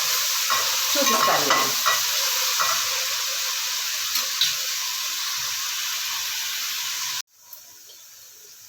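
Pieces of taro root fry in hot oil with a steady, loud close sizzle and occasional stirring clinks, broken by a brief spoken word, before the sound cuts off abruptly near the end.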